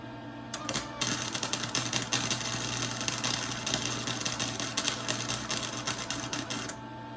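A Chicago Electric welder runs a steady, loud, crackling buzz of welding for several seconds, starting and stopping abruptly, close by and with no voice.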